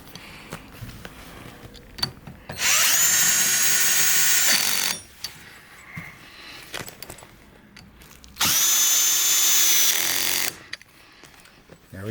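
Power drill driving the arm bolts on an X-Chair X77 massage chair during assembly, two sustained whirring bursts of about two seconds each, separated by quiet handling noise.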